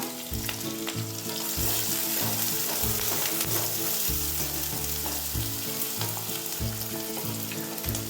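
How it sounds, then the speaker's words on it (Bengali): Chopped onion and green chili frying in mustard oil in a wok for chicken momo filling, a loud continuous sizzle close by with occasional stirring scrapes and no voices. "কড়াইয়ে সর্ষের তেল দিয়েছি। এবার পেঁয়াজ আর কাঁচা লঙ্কা কয়েকটা কুচি কুচি করে কেটে দিয়েছি।"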